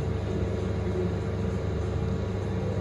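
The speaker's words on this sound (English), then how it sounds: "got someone running up a car trying to bleed the cooling system" A car engine runs in a workshop while its cooling system is bled, a low steady rumbling idle heard faintly at a distance, with no other prominent sounds.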